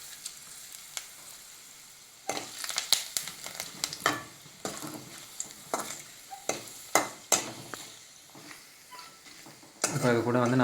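Dry red chillies frying in a pan for masala rice, a steady sizzle broken by repeated scraping of a spoon stirring against the metal, close and fairly quiet.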